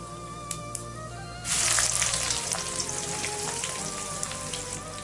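Oil crackles and sizzles steadily as cumin and onion are dropped into a hot pan, the frying growing louder and denser after a sudden burst.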